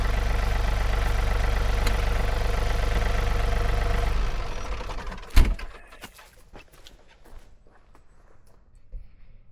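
A John Deere 3039R compact tractor's diesel engine idles with a steady mid-pitched drone, then is shut off and winds down. A sharp clunk follows, and a few faint knocks and rustles sound in the near-quiet afterward.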